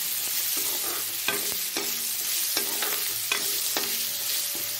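Black cumin seeds dry-frying in a pan until slightly charred, a steady hiss of sizzling broken by repeated sharp clicks and taps from a stirring utensil.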